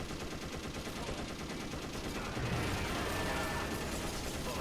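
Ballistic weapons firing in the video game Perfect Dark Zero, a dense, continuous rattle of rapid gunfire with mechanical clatter that grows slightly louder partway through, no talk.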